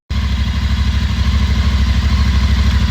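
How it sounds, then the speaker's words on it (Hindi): A GT 650 motorcycle being ridden gives a loud, close, steady engine drone with an even pulsing beat that holds unbroken throughout, and no voices are heard. "The bike is awesome, and I'm currently riding it."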